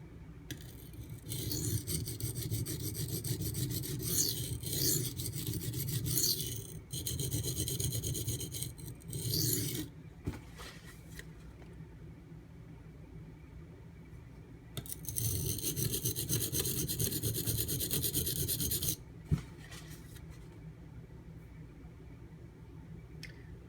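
A knife is sharpened on Baryonyx American Mutt and Bull Thistle stones, rhythmic gritty scraping strokes in two long bursts separated by a quiet pause, close and unaccompanied by talk.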